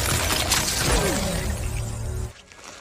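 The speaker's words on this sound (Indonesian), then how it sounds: "tangan Jax dibuat membeku hingga pecah" In a scene from the 2021 Mortal Kombat film, Jax's frozen arm shatters as a loud, sustained crackling, splintering crash with a low rumble beneath, then cuts off abruptly near the end.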